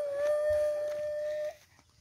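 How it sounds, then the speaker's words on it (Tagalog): A dog at a home in Borbon, Cebu, Philippines gives one drawn-out howl lasting about a second and a half, close and fairly loud, before it cuts off into quiet. "Ito, mahol na yung aso."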